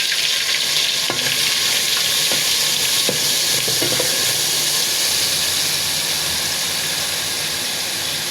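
Ginger, garlic and onion sizzle steadily in hot oil, with a constant frying hiss and occasional stirring clinks.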